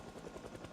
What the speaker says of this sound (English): Can't wait for you to tell me all about this helicopter that's happening ASAP.